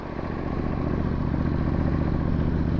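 A Triumph Bobber motorcycle rolls along slowly at around 40 km/h, its engine giving a steady, smooth, continuous rumble close by with no talking.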